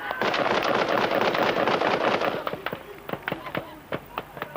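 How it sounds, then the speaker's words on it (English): Soldiers fire on a blue Mercedes during the armed unrest of apartheid's final days in Bophuthatswana. A dense, rattling volley of gunshots gives way to scattered, separate cracks, loud and fairly near, with faint voices beneath. "BOP's soldiers opened fire."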